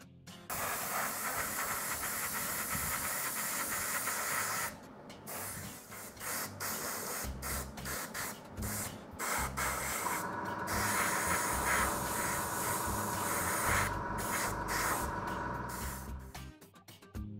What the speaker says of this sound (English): I moved on to covering the paint job with a couple of coats of gloss varnish.